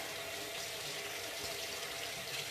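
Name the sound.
tap water running in a kitchen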